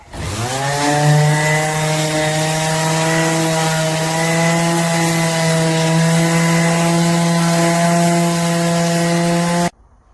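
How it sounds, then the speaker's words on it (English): A power sander runs on a houseboat's front hatch, a loud steady motor whine holding one pitch for about nine seconds before cutting off abruptly. "fixing to go sand this and gel coat it."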